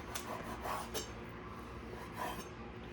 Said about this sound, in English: we'll cut it into jerky size strips